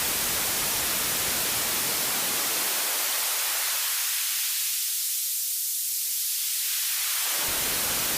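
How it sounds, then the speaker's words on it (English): Continuous hiss of synthesizer white noise through a filter whose low end is swept away and then returns, leaving a thin, airy hiss in the middle before filling back out. "this high-end, kind of soft, pleasing kind of hiss, really"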